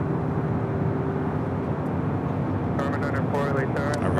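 A Qantas airliner makes its final turn toward the Tom Bradley terminal at LAX, giving a steady, broad engine rumble with a low hum throughout; faint voices come in near the end.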